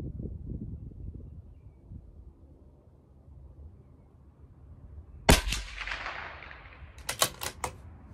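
A CZ457 .22 rifle fired with Aguila Interceptor ammunition outdoors at 50 yards: one sharp, loud crack after a stretch of wind rumble, followed by a few quicker clicks and a fainter crack, with no talk.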